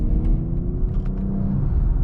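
BMW X3 M Competition SUV driven on the road, its engine holding a steady low rumble with road and cabin noise inside the car.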